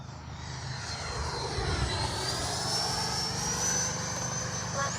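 An FMS Integral 80mm RC jet passes by with flaps down at reduced speed, its electric ducted fan whining steadily and rising in pitch as it sweeps past at a moderate distance, alone without talk.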